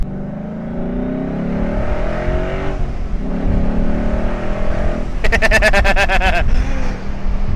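A 2012 Ford Mustang Boss 302 V8 on a track roars loudly and continuously, its engine note rising through the gears with a sharp rev surge near the end as voices talk inside the cabin.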